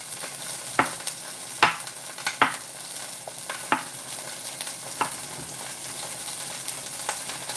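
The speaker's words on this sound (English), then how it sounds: "once I've got the meat seared" Meat searing in a pan, a steady close sizzle with frying hiss throughout, broken by several sharp scrapes and clatters of stirring utensils against the pan.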